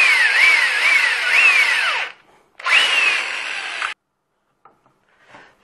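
Power drill boring holes through a Kydex IWB holster, two loud sustained bursts with rising and falling motor pitch, separated by a short pause, then near silence with faint handling sounds.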